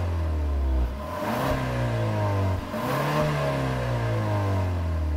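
A Genesis G80 sedan's 300-horsepower turbocharged four-cylinder revs up steadily under acceleration, its engine drone rising and holding, with a brief dip around a gear shift, continuous and moderately loud.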